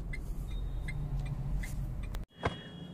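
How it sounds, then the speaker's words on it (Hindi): A Ford Figo Aspire car with about 30,000 km on it idles steadily close by, a low continuous engine hum with a brief dropout and a short transient near the end, no talking. "तो गाड़ी जो है स्टार्ट हो चुकी है और बिल्कुल भी वाइब्रेशन नहीं है गाड़ी में"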